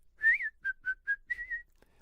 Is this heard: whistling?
yes